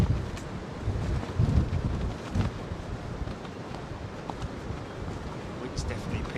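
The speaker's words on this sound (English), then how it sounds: "Wind's definitely picked up a bit." Wind blowing across an open airport viewing spot, a steady rumbling gust against the microphone with louder surges, fairly loud and close, while someone talks over it.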